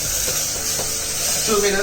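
Steady sizzling hiss of onions and masala frying in a hot pan on medium heat, a continuous crackle with a voice faintly underneath.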